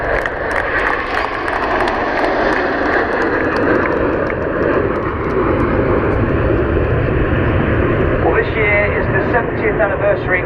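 Red Arrows jets roar past at the RAF Waddington airshow in 2013, a loud, steady, broadband jet rush filling the whole stretch with a shifting tone near the end, while a commentator talks over it.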